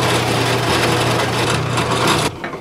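A power drill bores into a wooden guitar headstock for tuner holes, a loud steady grinding whir that holds for about two seconds and then cuts off abruptly.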